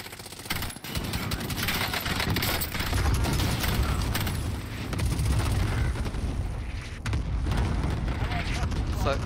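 Rumbling explosions and gunfire fill a Call of Duty: Warzone match, loud and continuous with heavy low booms throughout, under occasional game noise.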